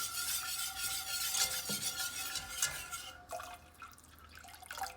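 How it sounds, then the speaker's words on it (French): A whisk stirs béchamel sauce in a saucepan with soft, rhythmic scraping and sloshing, a faint sizzle underneath, and no one speaking. "Vous mélangez au fouet."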